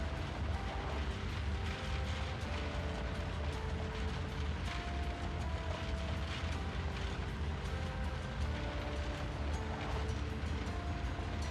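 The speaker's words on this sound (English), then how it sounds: "Explosion." Explosion in the Dust Raiders game, heard as a low rumbling, crackling blast with a continuous mechanical churn and debris noise, fairly faint and steady, with no clear single sharp peak.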